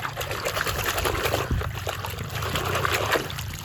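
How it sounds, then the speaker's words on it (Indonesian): Clean water trickles and splashes steadily while toys are being washed, a soft continuous dribbling close by with small uneven splashes throughout. "Wow, ini dia air bersihnya teman-teman."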